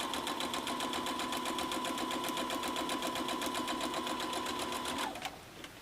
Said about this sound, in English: And sewing all the way down.